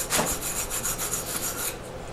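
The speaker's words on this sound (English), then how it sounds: "this is a half inch cleaning brush that I'm using to clean it up real good" A half-inch wire cleaning brush scrubs the inside of a half-inch copper valve outlet on a tub and shower valve, making a steady run of rapid, close rasping strokes with no voices.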